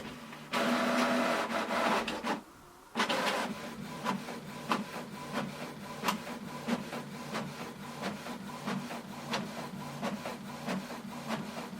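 A Canon PIXMA TS5320 inkjet printer running a print job, with a loud mechanical whir, a brief pause, then steady rhythmic clicks and feed-motor buzzing close by, no talking.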